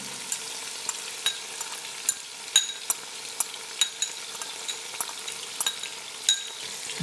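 Ginger garlic paste frying with softened onions for a Lahori chicken curry: a low, quiet sizzle punctuated by irregular sharp clicks and taps of a spoon stirring against the pan.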